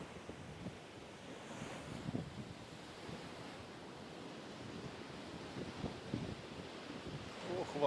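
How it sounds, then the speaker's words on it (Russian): Storm waves roll in and break on the shore at Livadia, Crimea, a steady low roar with repeated surges under strong wind buffeting the microphone. "Да, хороший шторм."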